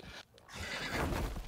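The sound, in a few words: horse neighing in a video game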